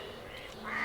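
A duck lets out a brief quack at a rural Bengali home, a single short call heard from a moderate distance with faint background noise.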